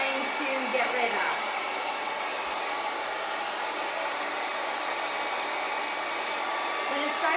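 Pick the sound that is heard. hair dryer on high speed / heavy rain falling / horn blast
hair dryer on high speed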